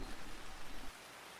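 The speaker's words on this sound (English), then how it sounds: "In the woods the rain was more peaceful." Rain falling in a forest in the video game Princess of World's End, a steady broadband hiss that cuts off abruptly just before the end, with no voices.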